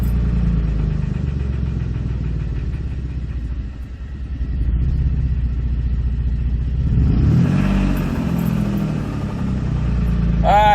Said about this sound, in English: Can't tell you what all that rattling is. Sounds like she spun a bearing.